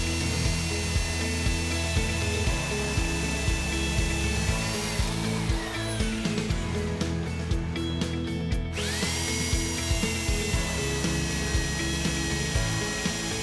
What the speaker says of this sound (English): I will now drill the other grades of boron with the same drill bit